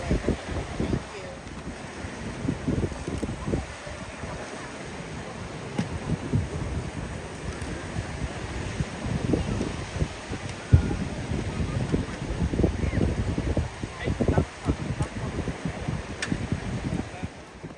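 Wind sweeps across Sao Beach on Phu Quoc, Vietnam, in a steady rumbling roar with stronger gusts buffeting the microphone, loud and close over the whole stretch.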